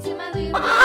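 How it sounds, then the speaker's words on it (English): A rooster lets out a short, loud, close call that rises into a harsh crowing burst toward the end, under one second and heard alone. "Rooster."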